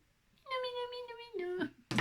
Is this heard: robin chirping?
no